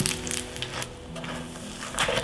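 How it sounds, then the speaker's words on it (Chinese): English muffin frying in an oiled pan as it is pressed down with a spatula, giving a brief close crackle of crisping crust over a steady soft sizzle. "翻面的时候稍微压它一下，让那个皮很脆的声音。"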